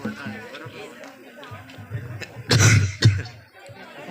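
A man coughs twice, loud and close, amid faint talk and background murmur.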